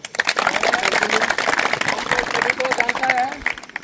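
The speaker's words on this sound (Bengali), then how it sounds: "তারপরে এখানে আমাদের ক্যান্ডিডেট একবার জোরদার তালিয়া" Crowd of trainees at a physical defence-training academy clapping in a dense, loud burst of applause for the candidates, lasting several seconds with voices mixed in.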